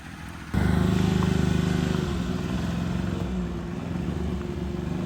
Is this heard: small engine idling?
yes